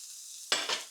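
Onions hit hot oil in a pan with a sudden loud hiss after a half second of faint background sizzle, the frying surging again briefly as they are stirred.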